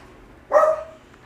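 A pet dog indoors in a home gives one sharp, fairly loud bark that trails off quickly, standing out against a quiet room with no speech.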